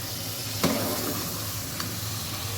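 Food frying in a pan for several minutes, a steady soft sizzle with a brief stir or clatter early on, close and fairly quiet, no talking.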